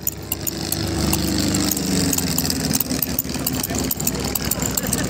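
A small Turbulent light aircraft fitted with a Volkswagen 1.6 car engine runs at a steady idle at a Mladá Boleslav airfield, a close, continuous low throbbing drone with rhythmic pulsing that holds level throughout.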